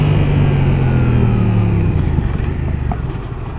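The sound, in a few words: Yamaha XSR 700 motorcycle engine braking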